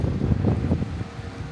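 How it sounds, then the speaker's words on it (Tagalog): Wind gusting across a hotel balcony in Sapa, Vietnam, a rough blustery rush buffeting the microphone in uneven bursts that ease off over a second and a half. "Ang hangin pala dito sa may balcony."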